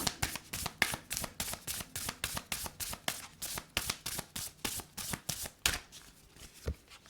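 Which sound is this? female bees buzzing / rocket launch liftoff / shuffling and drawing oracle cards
shuffling and drawing oracle cards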